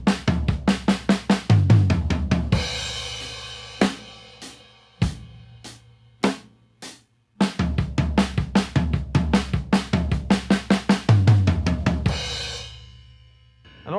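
A drum kit plays a slow linear fill, hits spread out one at a time with kick, snare and toms, pausing mid-way, then ending on a crashing cymbal.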